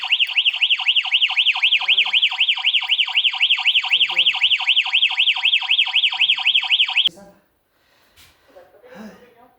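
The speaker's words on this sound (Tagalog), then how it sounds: "Alarm. Delikado. Alarm na tayo." Alarm sounding in a Paris office: a loud, rapidly pulsing electronic siren repeats steadily for about seven seconds, then cuts off, leaving quiet handling noises and faint breaths.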